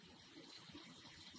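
A vacuum filtration setup runs in a solids lab, giving a steady, rushing gush of water and air drawn through the filter, continuous and fairly close with no talk.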